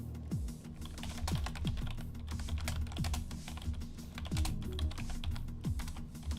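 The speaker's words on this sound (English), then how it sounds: "Excuse my excessive typing." Rapid, close typing on a computer keyboard, irregular bursts of sharp key clicks with heavier thumps mixed in, continuous and fairly quiet, with no voices.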